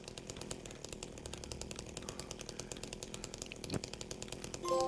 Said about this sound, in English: This chainsaw was deadly and was the only way to finish the second playthrough without using a weapon to kill any enemies.